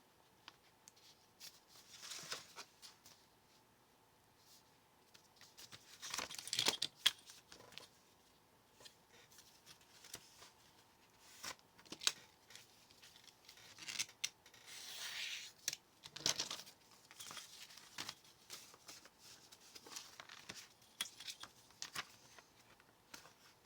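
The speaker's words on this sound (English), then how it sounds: "I'm going to go ahead and cut these on my fold lines" Paper being cut with scissors along fold lines in a quiet room, a string of soft, irregular snipping and rustling strokes, some briefly louder, with no talk.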